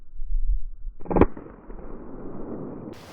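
A Ruger 10/22 rifle fires a single sharp crack outdoors at a tootsie pop target, preceded by a low rumble and followed by a fading hiss.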